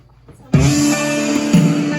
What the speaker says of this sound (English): I'm gonna play some good old country.